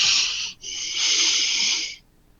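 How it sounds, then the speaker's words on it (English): Someone breathing into a microphone over an amateur radio link, two long harsh breathy hisses close to the mic with a brief break between them, then quiet. "Someone's breathing in the mic,"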